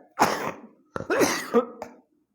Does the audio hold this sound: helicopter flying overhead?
no